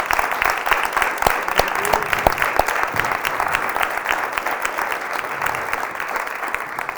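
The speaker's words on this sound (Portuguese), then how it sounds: "Vamos aplaudir o Senhor" Church congregation applauding together at a worship gathering, a dense, steady wash of clapping that runs without a break from start to finish, fairly loud and close with no talk over it.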